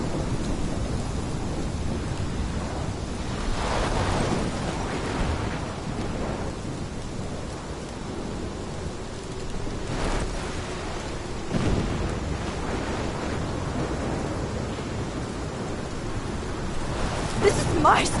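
Thunderstorm with heavy rain in the video game Life is Strange, a steady roar of rainfall broken by deep rumbles of thunder, loud and continuous throughout.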